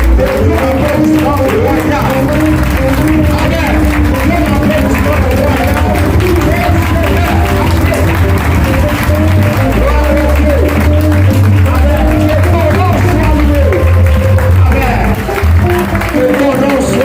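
A church congregation breaks into loud, sustained applause and cheering, a dense roar of clapping that continues for many seconds, mixed with a babble of voices.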